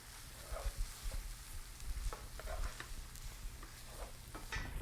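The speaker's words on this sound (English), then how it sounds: "all of the cheese goes in, and we'll stir until the cheese has melted" Cheese is stirred as it melts into queso fundido, making a soft, continuous scraping with a faint sizzle underneath. The sound is quiet and steady, with no talking.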